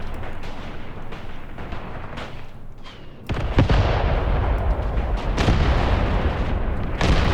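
Mortar and howitzer shells land in Graviteam Tactics, a sustained rumble of booming artillery impacts that swells sharply partway through into a heavy, continuous barrage.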